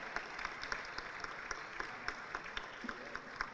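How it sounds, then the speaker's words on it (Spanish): Applause at a Latin American parliamentary assembly session, a fairly faint, steady patter of many hands from a distance, with a few sharper claps standing out. "les propongo un fuerte aplauso para despedir nuestros panelistas este sábado a la mañana"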